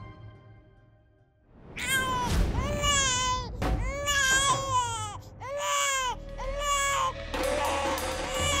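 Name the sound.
baby crying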